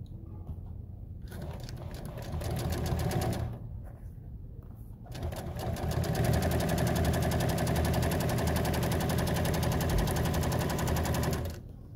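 Industrial sewing machine stitching an auto upholstery seat insert, running in long rapid bursts of steady mechanical chatter, with a short pause near the start and a longer one midway, loud and close with no talking.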